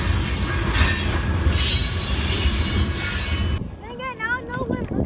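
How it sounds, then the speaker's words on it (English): A train rolls past with a loud, steady roar and squealing wheels for several seconds, then cuts off abruptly as voices talk over the quieter remainder. "Not once have I been caught by this damn train."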